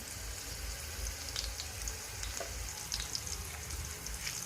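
Asafoetida and green chilies sizzling in hot oil for a dhokla tempering, a steady close frying hiss with small crackles running throughout.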